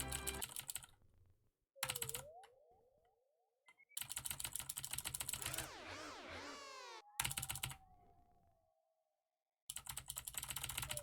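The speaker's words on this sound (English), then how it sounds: "I hope everybody's enjoying the keyboard ASMR." Computer keyboard typing as fast, dense clattering bursts of keystrokes during a Deltarune speedrun, broken by short pauses, with chiptune game music and effects in between.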